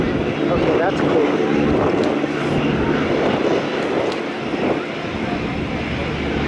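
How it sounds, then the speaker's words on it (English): A seaplane's engine drones steadily as it takes off from the water at an air show on the Toronto waterfront, a loud, continuous broad roar with a voice briefly speaking over it. "Here it goes, taking off out of the water."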